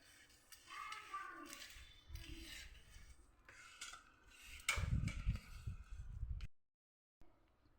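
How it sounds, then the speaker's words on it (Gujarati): Spice stuffing for stuffed kantola (spiny gourd), with oil, salt and asafoetida, is mixed in a bowl. The scraping and rubbing strokes are soft and close, with brief clinks and a short silence near the end. "બધું સરસ આપણે મિક્સ કરી દઈશું।"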